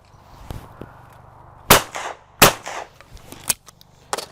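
Shots from an Italian Silma shotgun fired at clay targets during clay shooting: two sharp, loud reports with short echoing tails, plus fainter thumps and clicks between them and no talk.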